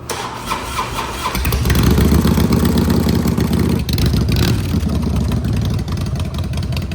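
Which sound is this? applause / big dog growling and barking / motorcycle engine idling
motorcycle engine idling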